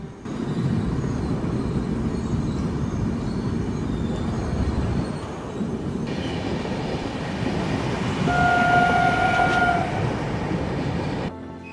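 Konkan Railway train running toward Karbude tunnel during monsoon: a steady rumble of wheels on track under a bright, sustained horn that sounds partway through, then ends abruptly.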